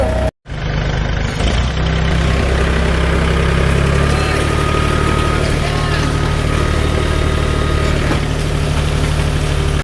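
A tractor engine idles loudly and steadily at close range, a deep constant chugging rumble with vibration, after a brief silent break at the start.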